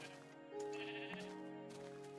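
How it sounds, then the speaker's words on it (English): A sheep in the Minecraft Infdev game bleats in a wavering, nasal tone, clear and close, lasting about two seconds with no talk over it. "Ooh, there's a sheep."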